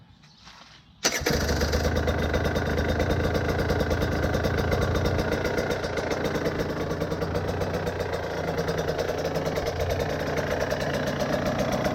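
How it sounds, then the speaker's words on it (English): A Husqvarna TE 150i dirt bike engine fitted with an idle mod cranks and catches after a second of quiet, then settles into a steady, loud, close idle with a rapid, even putter. "my bike's idling a lot better. It starts a lot quicker now."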